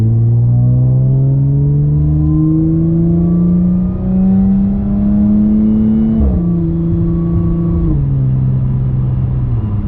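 An Audi S4 with an AWE Touring exhaust pulls hard at around 60 mph in seventh gear in automatic mode, its loud, close exhaust drone climbing steadily before two sharp downshifts jolt the pitch.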